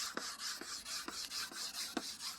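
A sponge's polishing side rubs across a camera lens in short, soft strokes, a quiet repeated swishing with small scratchy ticks at intervals.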